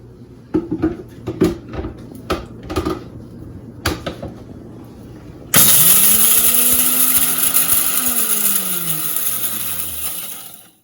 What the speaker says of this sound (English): Blend your peppers and chili flakes.